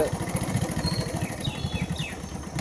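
A motorcycle engine running at a steady idle-like rumble on a rural road beside a canal in Punjab, close and continuous throughout with no talk over it.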